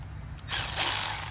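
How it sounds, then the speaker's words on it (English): A power tool whirs loudly up close, starting abruptly after a quiet moment and running steadily with slight pulsing. "Power tools."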